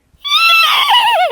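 A human voice imitates a horse whinnying: one loud, close, quavering neigh that rises, then wavers and falls over about a second.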